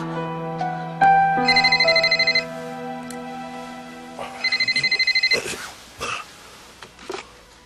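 An electronic telephone ringtone trills in two bursts of rapid pulses, with a sustained chime tone beneath, then clatters as the handset is picked up in a Korean TV drama scene.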